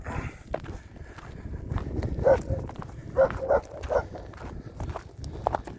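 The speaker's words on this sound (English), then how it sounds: "that constant barking, that drives you nuts" Several German Shepherds bark in short bursts at moderate distance, scattered over shuffling footsteps and background movement.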